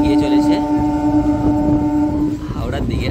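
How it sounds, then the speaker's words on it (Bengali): A passenger train running toward Howrah rumbles steadily with a sustained horn-like tone through much of the stretch, loud and close from inside the carriage. "এখন আমাদের ট্রেন এগিয়ে চলেছে"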